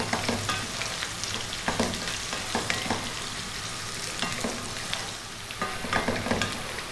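Potatoes frying on lively heat in a pan for an eggplant potato dry curry, a steady close sizzle with intermittent scraping stirs throughout, no talking.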